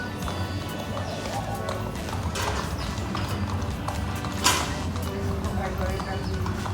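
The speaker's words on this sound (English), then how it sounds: "We're gonna be riding horses to the rainforest area." Horses from an adventure park set off on a trail ride toward a rainforest, their hooves clip-clopping steadily under a busy, noisy outdoor background with people talking.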